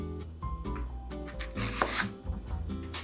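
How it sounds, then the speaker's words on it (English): A knife cuts lengthwise through an onion on a cutting board, giving a few close, dull chopping and scraping strokes, while a voice talks in the background. "I love onions. Cut it lengthwise."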